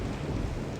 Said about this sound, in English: This thunder sound is very realistic.